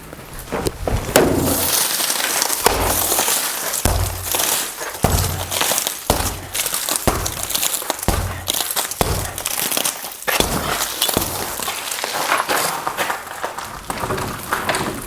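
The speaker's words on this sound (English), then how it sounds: "I'm guessing the outside pane is gonna break pretty easily." An outside glass pane covered with security window film breaks under repeated blows, a loud, continuous run of crunching, cracking and crinkling glass with sharp impacts throughout.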